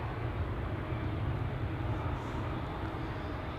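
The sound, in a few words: aircraft passing by overhead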